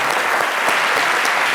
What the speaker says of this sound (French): Applaudissons le Gabon